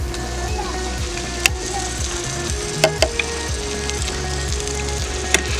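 Ginger garlic paste sizzling in hot oil in a pan for Kerala-style chicken kurma, a steady close frying hiss with a few sharp crackles and light scraping of a spoon.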